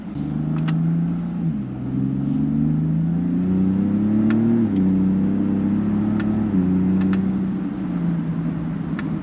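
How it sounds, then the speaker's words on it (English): A second-generation Ford Raptor pickup accelerates in manual mode under paddle shifts, its engine note climbing steadily, then dropping at each gear change before rising again, heard from inside the cab and fairly loud. "put it into manual mode and shift with the paddles and see how that goes"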